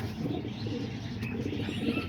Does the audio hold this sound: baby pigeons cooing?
yes